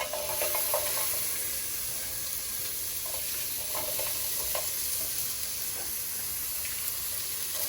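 Onions and chillies frying in a pan: a close, steady sizzle and hiss that runs throughout, broken by occasional scrapes and clicks of stirring.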